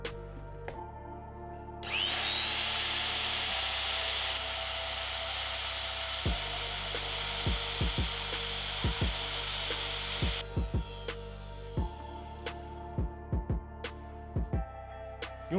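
Power router cutting horizontal grooves across a wooden board: a loud, steady high-pitched whine runs for several seconds, then drops away, followed by a scatter of knocks and handling taps.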